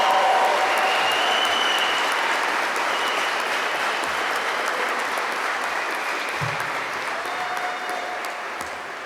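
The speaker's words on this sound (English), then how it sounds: "Let's have a round of final applause for the classes of 2020 and 2021" Sustained applause from a large commencement audience honoring the graduating classes of 2020 and 2021, a dense steady roar of clapping that fades slightly toward the end.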